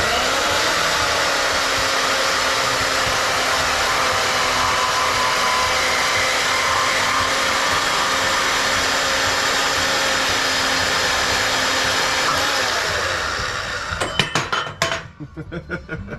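A bandsaw grinds steadily through a thin-walled swing set pipe, a loud sustained whining hum that runs for a long stretch before the blade breaks through and gives way to clattering metal clinks.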